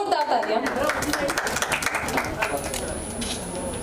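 Audience at a song launch event applauding a musician, a dense wash of clapping in a hall with voices talking over it, steady and moderately loud throughout.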